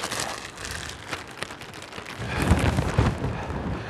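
Hurricane Lee in 2023, blowing through Yarmouth, Nova Scotia as a tropical storm: steady rain and gusting wind roar loudly outdoors, swelling stronger toward the end with heavy low rumbling buffets.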